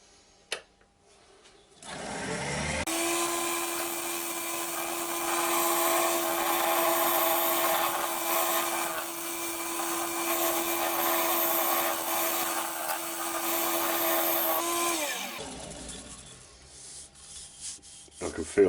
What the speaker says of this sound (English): skew chisel and some nice fine smooth cuts, very gentle cuts along there